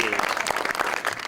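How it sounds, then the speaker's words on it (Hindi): Brief applause from a studio audience on a TV show follows a guest's introduction. The clapping is fairly faint and mixes with a voice. "प्लीज आपकी भरपूर तालियों में अमजद इस्लाम अमजद।"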